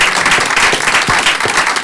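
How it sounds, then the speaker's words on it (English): A crowd at an evening reception celebrating Miami breaks into brisk, dense applause. Claps are steady and fairly loud and run through the whole short stretch with no voices over them. "let's give them a round of applause"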